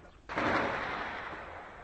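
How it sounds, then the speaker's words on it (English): A single distant gunshot booms in a city under siege, Homs, then fades into a long rolling echo. "Just the constant sound of gunfire nonstop."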